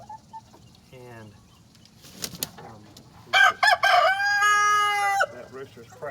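A young backyard rooster lets out a loud, drawn-out crow close by, preceded by softer clucks and chicken calls, with a person speaking quietly between the sounds.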